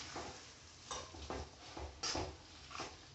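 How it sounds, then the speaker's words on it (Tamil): Prawns fry quietly in a pan for a prawn curry (eral thokku), giving a soft, steady sizzle broken by several brief scraping stirs. "போட்டுட்டு இதை கொஞ்சம் நல்லா ஃப்ரை பண்ண அது குக் ஆகிறதுக்கு நம்ம விட்டுருவோம்"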